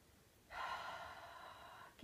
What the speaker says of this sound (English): Take a nice deep inhale and relax your body on the exhale